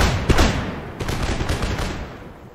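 A musket volley from line infantry in the Empire: Total War strategy game: a dense, crackling burst of many shots, with a second ragged round of fire about a second later that rolls on and fades.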